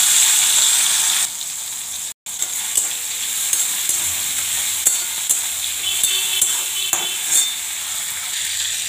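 Prawns sizzle in hot oil in a pan for a bottle gourd curry, a steady close frying hiss with scattered stirring clicks and one brief dropout, no talking.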